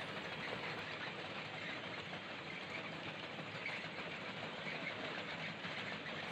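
RM80-92U ballast cleaning machine running on an Indian Railway track, a steady dense mechanical roar with engine rumble, loud and close and unbroken throughout, with no talking.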